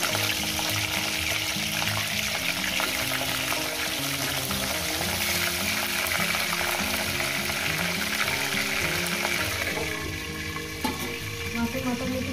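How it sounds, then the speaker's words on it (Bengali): Fish heads frying in hot oil make a loud, dense, steady sizzle that fills the whole stretch, with crackles and occasional stirring scrapes throughout and no speech. "মাছের মাথাগুলো না একটু ভেজে নেব"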